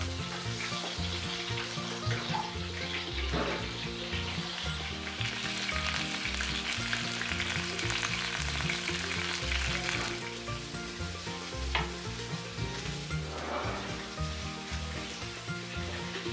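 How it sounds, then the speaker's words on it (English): A pan frying on low flame gives a steady, even sizzle and crackle that continues unbroken, with a few faint stirring scrapes and no talking. "Fry on low flame. Turn over to the other side every 3 to 4 minutes."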